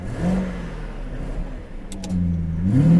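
A BMW E66 745Li V8 idling and revving gently with its exhaust in silent mode, a smooth subdued low drone that rises slightly in pitch toward the end, with no talk over it.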